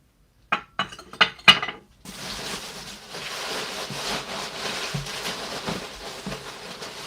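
Clear glass dishes clink and knock together as they come out of storage totes, with a quick run of sharp, close rattles followed by a steadier rustling, shuffling bed with occasional soft knocks.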